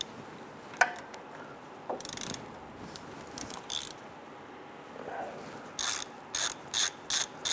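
Ratchet wrench loosening a 10 mm bolt that holds the rear ABS wheel speed sensor on a 2005-2010 Chrysler 300, heard as close, quiet bursts of rapid pawl clicking, several short runs that quicken into a regular rhythm toward the end.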